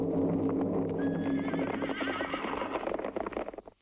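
Horses give a loud, wavering whinny over a steady clatter of hooves on a road as riders arrive at an inn, with the neigh rising midway and the hoofbeats trailing off at the end.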